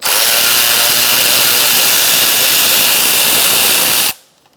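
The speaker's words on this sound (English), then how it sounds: "Now we're going to remove our grommet with a 15mm socket." A 15mm socket on a power tool spins loose the grommet fastener on a 2004-2009 Mazda 3 engine during an ignition coil job, making a loud, steady whirring drone that runs for about four seconds and then stops abruptly.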